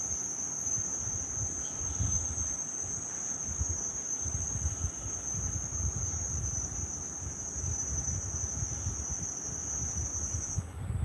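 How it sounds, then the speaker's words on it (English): Cicadas drone outdoors near the Arabian Sea coast after the monsoon, a steady high continuous buzz held for the whole stretch over soft low wind rumble, with no voices. "where you can just listen to nature. Cicadas, frogs, and many migratory birds"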